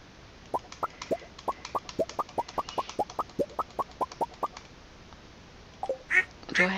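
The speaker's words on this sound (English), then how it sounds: "Do I have a baby duck somewhere?" Ducks in the farming game Stardew Valley quack in a steady series of short, evenly spaced calls, about twenty in a row, followed by a few louder, harsher quacks at the end, with no talking.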